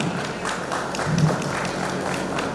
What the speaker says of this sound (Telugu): So big claps all of you.